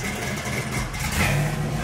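A box Chevy car engine running while driving, a close, steady mid-pitched rumble with a slight rise in revs toward the end, with no voices over it.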